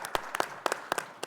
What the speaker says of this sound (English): That's where y'all clap